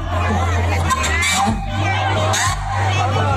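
Crowd cheering and shouting at a party-list proclamation rally in the Philippines, a loud continuous roar of many voices with whoops rising and falling throughout, with a steady low hum underneath.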